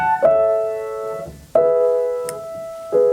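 A piano plays The Song of Twilight by Yoshinao Nakada, an RCM Grade 3 piece, gently and softly: three sustained chords struck in slow succession, each ringing and decaying before the next, with no voices.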